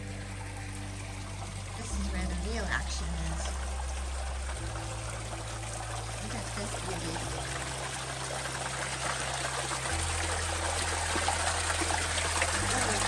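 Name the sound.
water trickling and dripping at a big spring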